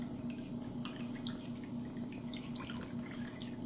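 A tap running for a parrot's bath, a continuous close stream of water splashing and dripping into a basin over a low steady hum, with no voices.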